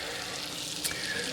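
Butter in a pot gives off a faint, steady sizzle and low bubbling, with a small clink partway through and no voices.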